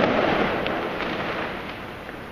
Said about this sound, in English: Then I heard the first explosion.